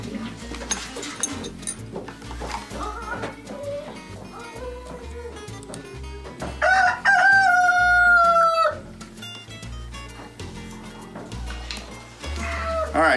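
Chickens clucking nearby with a rooster crowing loudly partway through, mixed with other farmyard sounds and a drawn-out crow near the middle, close and fairly loud.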